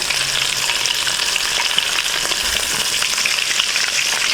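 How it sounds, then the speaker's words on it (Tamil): Chicken pieces deep frying in hot oil until golden, KFC style, give a loud, dense, unbroken bubbling sizzle held close and steady throughout, with no voices. "சிக்கன் நல்லா பொன்னிறமாக பொரிஞ்சிருச்சு"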